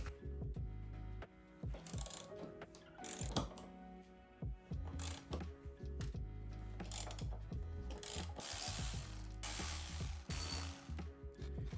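A ratchet with a 13mm socket loosens bolts on a W220 Mercedes S-Class air suspension, giving close, repeated bursts of clicking pawl strokes with short pauses between them.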